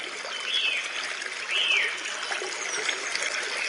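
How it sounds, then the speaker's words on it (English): A white noise speaker plays a stream track: steady broadband rushing of flowing water, continuous and fairly even with faint higher chirps over it. "And then just a stream."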